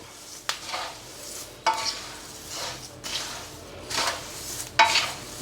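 Coriander seeds dry-roast in a pan, giving a faint rustling scrape at each slow stir, repeating about every second and a half with no voices.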